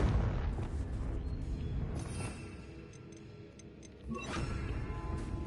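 A fire-blast spell bursts in a Hogwarts Legacy game scene, a rumbling, dense explosion that swells at the start and flares again near the end over a continuous low roar.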